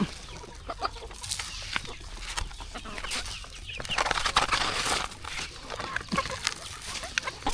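Free-ranging country chickens on a farm in the morning cluck and fuss in a busy, scattered chorus, near and continuous, with rustling and scratching mixed in.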